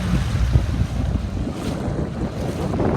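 Wind rushes over a 29er sailing dinghy on the water, producing a loud, low buffeting roar on the microphone mixed with splashing water, continuous throughout without voices.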